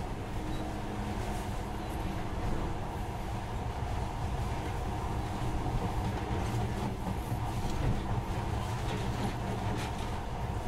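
Monorail train running in Metro Last Light Redux, a steady loud rumble with rattling and faint clacking that carries on evenly and without talk.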